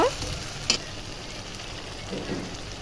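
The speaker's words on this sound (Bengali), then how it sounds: "দিয়ে মশলাটা ভালো করে কষিয়ে নেব" Homemade ginger and garlic spice paste frying in a pan, a steady close sizzle with a brief stirring scrape, no talking.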